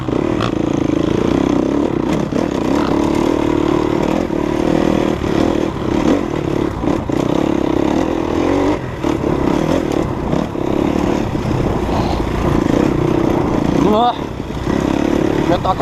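A motorcycle engine revs and rumbles continuously on an off-road trail near Diamantina, with clattering from rough ground and a voice talking over the ride.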